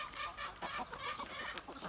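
A naked-neck rooster in a farmyard gives soft, faint clucks in a short, uneven series, close by and with no voices.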